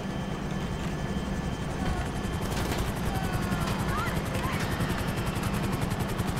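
Helicopter lifting off in Grand Theft Auto, a steady loud rotor chop with rhythmic pulsing that holds throughout, with game engine noise and scattered effects layered over it.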